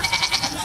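Goat in labor giving a short, close bleat with a wavering, pulsing tone, over in under a second.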